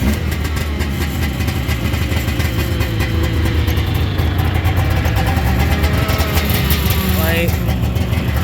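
A 1991 Arctic Cat Lynx 340 single-carb snowmobile engine runs loud and close, a steady buzzing idle with slight rises in pitch, while someone talks over it.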